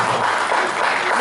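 Audience applause at a debate forum in Pale, a short stretch of steady, moderately loud clapping from a crowd in a hall.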